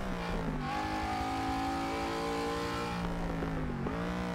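A car drifting in Forza Motorsport 6, played on a stock Logitech racing wheel, with a steady loud engine drone that revs up and down through gear changes, and tire squeal throughout.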